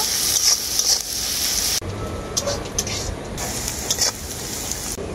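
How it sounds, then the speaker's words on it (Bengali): Chopped onions frying in hot oil in a wok, a moderate sizzle with intermittent stirring scrapes and clicks, close by and with no voices. "তেলের মধ্যে দিয়ে দেবো পেঁয়াজ কুচি, এর মধ্যে দিয়ে দেবো পরিমাণ মতো লবণ। পেঁয়াজটাকে এরপর আমি খুব ভালো করে ভেজে নেব।"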